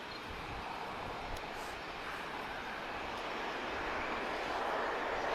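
A heavy passenger jet passes at an airport during a spotting session, its broad, steady roar slowly swelling in loudness from a moderate distance, with no talking.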